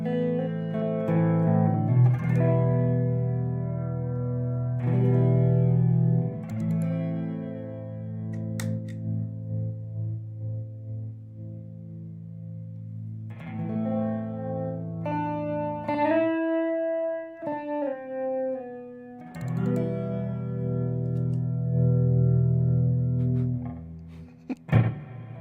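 Electric guitar with a swirling chorus effect and slight flanging, sustained chords and single notes ringing out, no voices.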